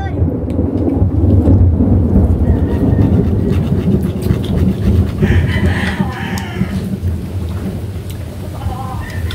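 Heavy thunder from a lightning storm rumbles loud and continuous with rain, a deep rolling roar that holds steady and then slowly fades.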